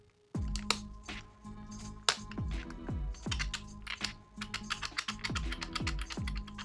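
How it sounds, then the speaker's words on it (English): Sharp plastic clicks from a button ring snapping into a TIE Fighter-styled Poke Ball build, a rapid run of close, bright snaps with short gaps between them and no talking. "And then this should just click in."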